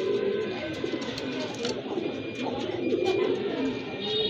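A pair of Almond Tiger colour pigeons coo at a pigeon farm, with low, repeated throaty calls rolling on continuously and a few sharper chirps over a busy background.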